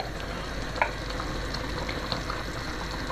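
Capers crackle and sizzle steadily in a hot pan for anchovy pasta, a close, even frying hiss with a few small pops and no talking.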